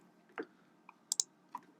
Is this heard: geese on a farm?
no